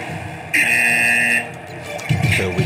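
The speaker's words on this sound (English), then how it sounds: "So we do get a buzzer" A match buzzer at a wrestling-style event sounds one steady, harsh electronic tone for about a second, standing out against background crowd noise that swells again afterwards.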